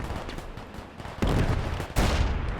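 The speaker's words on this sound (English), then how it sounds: "we want to drop some more artillery over here" Artillery fire in the Gates of Hell war game on the Eastern Front, a scatter of distant crackling shots followed by two heavy booming blasts that swell and linger.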